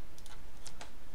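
A few quiet keyboard key taps, brief and irregular, over a soft background hiss, typing a shortcut on a Core 2 Duo Mac running OS X 10.11 El Capitan.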